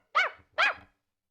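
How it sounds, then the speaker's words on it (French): Two short, clean barks from a dog in a film soundtrack, spaced about half a second apart, moderately close and with nothing else around them. "les quelques aboiements du chien ménagent une pause inattendue dans la musique"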